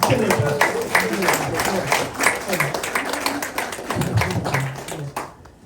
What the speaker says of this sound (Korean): 한 번 더 박수